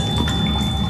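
Drinking water in the survival video game The Solus Project: a short, loud burst of liquid gurgling and splashing, heard alone over a low background hum.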